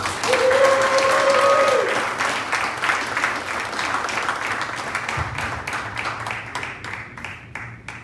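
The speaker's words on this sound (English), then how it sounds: "Give a nice Southern hospitality round of applause" An audience applauds steadily, the clapping thinning into scattered claps toward the end, with a faint tone and murmur early on.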